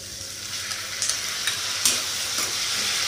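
Tomatoes tipped into onions frying for palak paneer in an Indian home kitchen, giving a steady close sizzle with scattered scraping stirs and small clatters of a spoon against the pan throughout.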